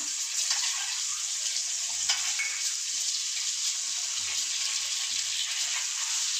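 Eggs hit hot oil in a pan and fry with a steady, bright sizzle that holds evenly throughout, close and constant with no voices.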